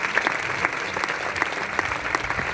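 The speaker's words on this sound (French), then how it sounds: "on peut applaudir" A concert audience claps in sustained, dense applause at close-to-mid distance, with scattered louder claps standing out over the crowd.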